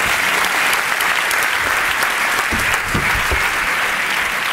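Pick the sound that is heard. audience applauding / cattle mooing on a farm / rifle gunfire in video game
audience applauding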